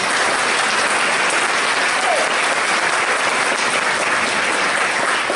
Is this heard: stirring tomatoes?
no